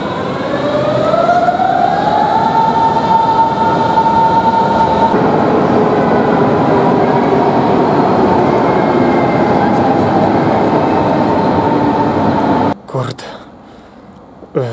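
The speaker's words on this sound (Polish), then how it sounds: "Teraz będę miał za chwilę pociąg do Magdeburga." A train bound for Magdeburg rumbles loudly and continuously nearby with a rising whine and steady grinding wheels, then the noise cuts off abruptly near the end.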